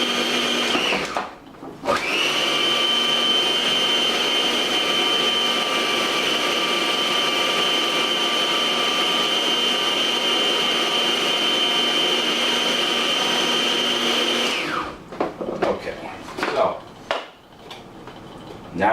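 A food processor spins pasta dough for cacio e pepe in a loud, steady, high-pitched whir that runs for about thirteen seconds, with brief clattering handling of the machine before and after.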